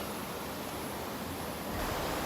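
Cold water pours off a cliff face in a steady, broadband rush, close and continuous with no voices over it.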